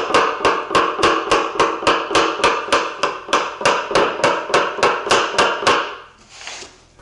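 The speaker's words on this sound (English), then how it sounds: "now I'm getting this extra cool chiseled effect near the corner of the beam" A chisel struck in a steady, even rhythm splinters a wooden faux beam being distressed for an aged look: about seventeen sharp, loud, close knocks, then a brief scraping rustle at the end.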